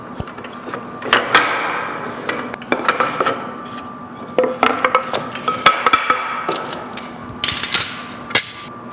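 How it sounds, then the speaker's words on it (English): Woodworking clamps being taken off the sides of a wooden end table in a workshop, giving a run of close, irregular clacks, knocks and scraping rattles with no talk. "we can remove the clamps."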